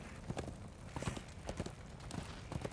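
Horse hooves clip-clop in the video game Darksiders 2, a steady rhythmic run of close, moderately loud hoof strikes with no talking.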